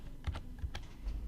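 A few quick keystrokes click on a computer keyboard while a date is entered into a table, faint and close, in a short irregular run.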